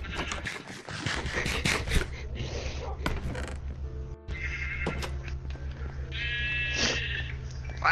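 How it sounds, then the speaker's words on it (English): Sheep bleat near a house, with several wavering calls rising over a steady low hum and background bustle, the clearest cries coming late in the stretch. "Why is there so many sheep by your house?"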